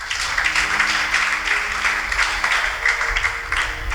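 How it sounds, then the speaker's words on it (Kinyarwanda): Church congregation applauding vigorously, dense continuous clapping that swells and dips slightly over a few seconds, with no talk over it. "Mukomere Imana amashyi cyane."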